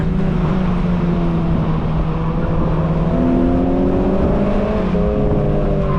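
A Mazda Miata's engine pulls hard and steady from inside the cabin, a loud continuous drone whose pitch climbs gradually as the car accelerates, with no talking over it.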